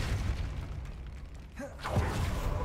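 The Depulso spell in Hogwarts Legacy is cast with a short magical whoosh and a rising swirl, followed by a dull, muffled burst. It is moderately loud over low ambient rumble.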